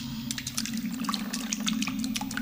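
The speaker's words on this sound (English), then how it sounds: "After a while, the water drops start to get on your nerves." Water dripping and running, a steady trickling wash with a low hum beneath and a scatter of bright drip-like plinks, continuous and fairly close.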